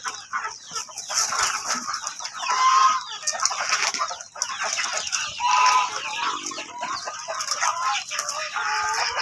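Hungry chickens in a coop at a Filipino poultry farm cluck and squawk continuously, a dense, close flock chorus with a few louder calls standing out.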